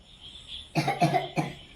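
A person with an infection coughs about three times in quick succession, a close, distinct burst after a brief quiet start.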